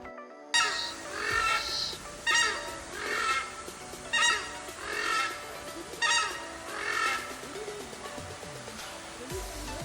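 Birds in a tropical forest zoo habitat call in repeated loud honking bursts, roughly every second or two, over a steady rushing background like flowing water.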